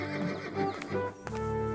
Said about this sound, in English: You have bought the finest horse in my stable.